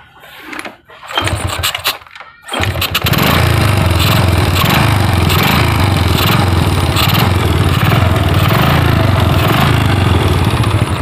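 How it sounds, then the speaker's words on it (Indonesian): A Honda Supra Grand motorcycle, repaired after lost ignition, is kicked a few times with short bursts, then fires up and runs steadily at a loud, rough idle close by. "Akan saya engkol motornya ya."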